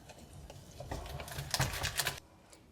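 A whisk rattles quickly against a bowl, mixing milk into a chocolate soufflé base in a run of rapid, clicking taps that grows louder and then stops abruptly.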